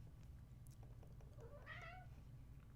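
A cat meows once in the middle of a quiet room, a short rising-falling call heard faintly over steady low background hum.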